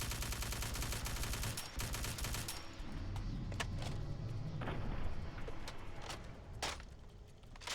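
Burst shotgun fire from a modded Winchester City Killer in Fallout 4, heard as dense, repeated sharp blasts over a constant loud rumble of combat noise, with a few distinct cracks standing out later on.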